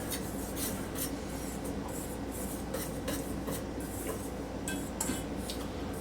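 A wire whisk stirs baking powder into dry ingredients in a bowl, giving a fast scratchy rasping with light clinks against the sides, steady and close.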